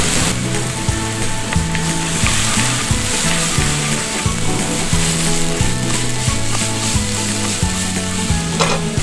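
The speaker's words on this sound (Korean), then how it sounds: "마늘도 넣어줄게요." Garlic frying in a pan for a puttanesca pasta sauce, a loud continuous sizzle with rhythmic stirring scrapes throughout and no talking.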